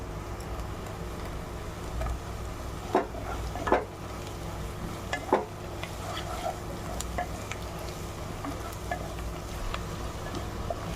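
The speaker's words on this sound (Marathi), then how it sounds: "लसूण टाकते लसूण" Garlic sizzles in a hot pan while a dried clam dish fries, a steady close crackle with a few sharp utensil taps and stirring scrapes over it.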